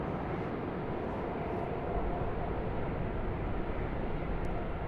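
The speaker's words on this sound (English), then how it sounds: "China Eastern A330-200 is coming down here for a runway 25 departure." A China Eastern Airbus A330-200 moving along a runway at Sydney Airport for a runway 25 departure: a steady, distant, low rumbling roar of jet engines that holds fairly even throughout.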